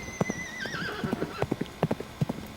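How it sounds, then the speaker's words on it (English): Horse hooves galloping as a sound effect, rapid uneven clip-clop beats close up with a whinnying neigh at the start. "We got on a horse and we galloped off into the swamp."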